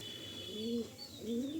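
Pigeons cooing at home, two clear low throaty coos rising and falling one after the other, close by, with a faint high chirp over a quiet background.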